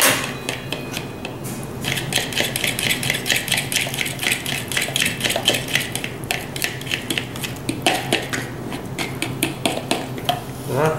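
Warm cooking oil stirred into a dipping mixture for fried stuffed mushrooms and chicken wraps, with repeated clinks and scrapes of a utensil against a bowl in a busy, uneven rhythm and no talk.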